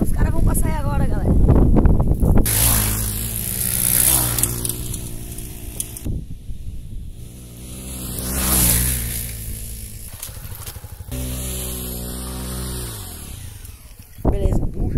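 Motorbike engines rev loudly as they roar past one after another on a trail, pitch rising and falling with each pass, with wind noise and people shouting nearby.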